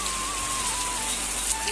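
Steady rain falls and patters on surfaces, a dense, even hiss that continues throughout with no voices, during a rural downpour where water drips and leaks through a shelter housing cows.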